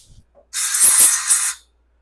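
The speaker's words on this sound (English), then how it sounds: "Let me blow some air in there so you can really see it." Compressed air hisses into the small oil orifice of a 4L60E transmission from a 2004 Chevy Suburban 5.3L, one sharp, close blast lasting about a second before cutting off.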